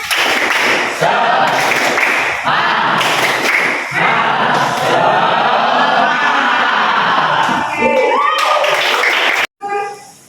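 A class claps out a rhythmic cheer together, loud sharp bursts of unison clapping in a patterned beat with voices chanting along, ending abruptly.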